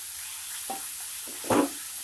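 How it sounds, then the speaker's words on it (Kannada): Grated carrots fry in ghee in a pan for carrot halwa, with a soft steady sizzle and a few louder stirring scrapes, close and with no voices. "5 ನಿಮಿಷ ಫ್ರೈ ಮಾಡ್ಕೊಬೇಕು ಇದನ್ನ ತುಪ್ಪದಲ್ಲೇ"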